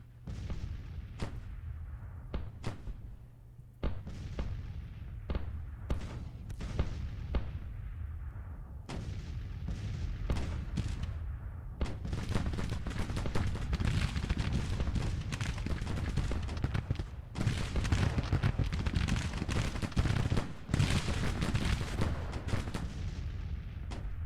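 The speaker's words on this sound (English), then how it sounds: "You hear the Williams guns blasting away." Williams guns fire in a Grand Tactician Civil War battle, first as separate sharp reports a second or two apart, then as a dense, continuous roll of overlapping gunfire and booms, loud and sustained.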